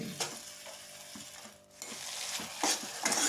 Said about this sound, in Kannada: ಚಿಕನ್ ಹಾಕ್ಕೊಂಡಿದ್ದೀನಿ ಬಾಣಲೆಯಲ್ಲಿ